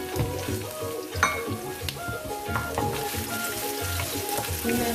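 Onion and bell pepper fry in hot olive oil for a seafood soup, giving a steady, close sizzle with occasional crackles and stirring clicks, and no talk.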